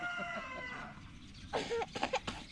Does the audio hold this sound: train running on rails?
no